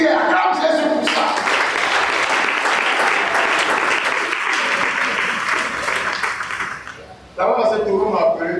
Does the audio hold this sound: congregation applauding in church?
yes